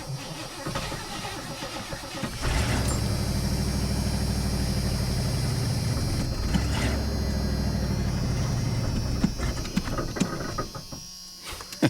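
A 1985 Ford Bronco snow plow truck's engine running at a steady idle, a continuous close, loud mechanical drone with a buzzing edge and a few clicks and knocks near the end, with no talking.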